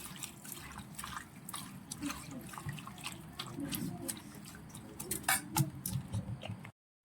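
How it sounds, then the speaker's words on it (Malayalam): Water trickles and drips into a ground coconut curry paste for a Kuttanad-style dried fish curry, soft, close and continuous with occasional splashy drops while a pan is handled. "നമുക്ക് കുറച്ച് വെള്ളം ചേർത്ത് ഇത് നന്നായിട്ട് മിക്സ് ചെയ്യാം"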